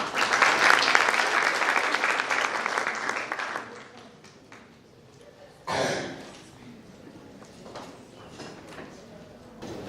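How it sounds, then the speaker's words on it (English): A conference audience at a revenue solutions summit claps in a loud, dense burst of applause that gradually thins and fades out, followed by a few scattered claps and quieter room noise. "let's give a round of applause for Willy Govender"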